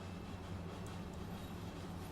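Train in Train Sim World 2, unit 615 hauling timber logs on the Arosalinie, rolling off after its brakes release, a faint low rumble with soft wheel and rail tones, brief and steady.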